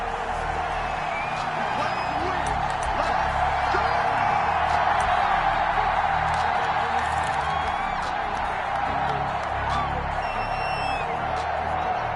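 Video game stadium crowd at a PS4 American football matchup between the Cincinnati Bengals and Pittsburgh Steelers, a steady roaring wash of cheering and scattered whoops that runs continuously at a moderate distance with no clear break.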